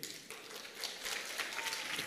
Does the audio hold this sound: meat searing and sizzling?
no